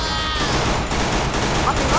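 Rapid, dense bursts of gunfire in the game Free Fire rattle continuously at close range, with a voice talking over the shooting.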